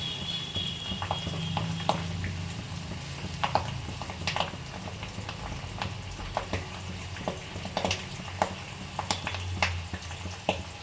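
Onions frying in coconut oil give a quiet, steady sizzle with scattered small crackles and pops, heard up close without voices.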